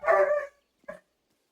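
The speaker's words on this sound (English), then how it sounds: "sorry if you can hear the dogs" A dog barks close by with one long, strained bark, then a short second yelp after a pause. Silence follows.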